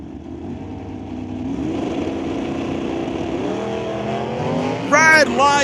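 Drag racing cars at a West Coast Outlaw Shootout, including the Lordco Auto Parts Super Stock Camaro, with a steady loud engine drone that rises in pitch and swells near the end. An announcer talks over the noise throughout.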